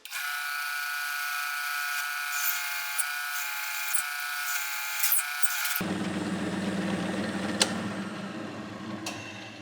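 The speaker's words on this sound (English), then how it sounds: "now I just drill a hole all the way through" A drill whines at a steady high pitch, then the tone drops as a Forstner bit bites into wood, grinding steadily through the material.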